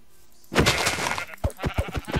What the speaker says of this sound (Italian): Una pecora.